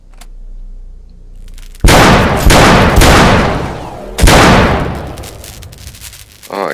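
Loud bursts of gunfire sound in the Virtual Battlegrounds video game, arriving as two heavy volleys after a quieter opening.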